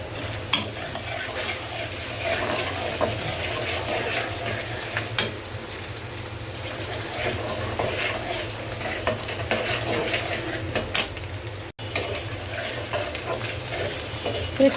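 Cardamom, cinnamon, bay leaf and green chillies frying in oil, a soft continuous sizzle with intermittent scrapes and taps of a spoon against the pot, moderately close, no speech.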